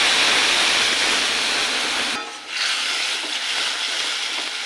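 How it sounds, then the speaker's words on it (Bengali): Ground spice paste hits hot oil already seasoned with whole cumin, cardamom, cloves and bay leaves while making rui posto, giving a loud, dense, steady sizzle that runs throughout with a brief dip partway. "আর দিয়ে দেবো বেটে রাখা মশলা"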